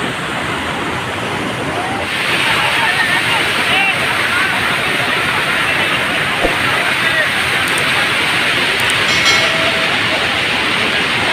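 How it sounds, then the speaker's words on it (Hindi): Hadhadwa waterfall at Taranakho in the rainy season, a loud steady roar of falling water filling the whole scene without pause. "यहाँ जैसा पानी गिर रहा है बरसात में"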